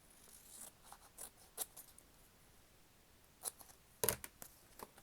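Scissors snipping through paper while journaling, with several short, quiet cuts spaced irregularly and one sharper snip near the end.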